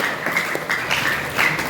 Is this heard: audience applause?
yes